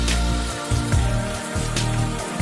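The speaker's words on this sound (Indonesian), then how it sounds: "Kebetulan cuaca lagi hujan teman-teman" Evening rain falls steadily, a dense continuous hiss with occasional louder patters and low rumbling gusts, loud and close throughout.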